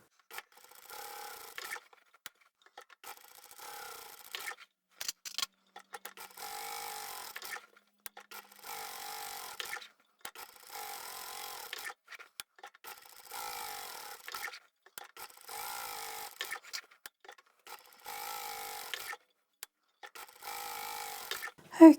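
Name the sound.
sewing machine quilting fabric with Teflon foot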